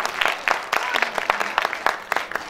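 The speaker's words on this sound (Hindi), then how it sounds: "क्लैप करनी जरूरी है" An audience at a stage performance honoring Pakistani martyrs claps in a brisk, uneven patter of hands, moderately loud and close, with some voices mixed in.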